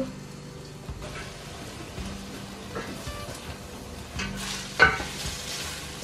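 Onions frying in oil in a home kitchen, with stirring noises over a low, steady sizzle and a few clatters, moderately close and no voices.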